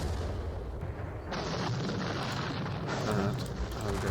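Cannon fire in a Napoleonic war strategy game, the Battle of Eylau, comes as a couple of dull booming bursts over a low rumbling background, moderately loud and spaced about a second and a half apart.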